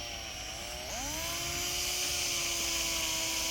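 Rotary polishing machine working on a car headlight, a steady loud motor whine with tonal harmonics that rise in pitch as it spins up about a second in, then holds constant.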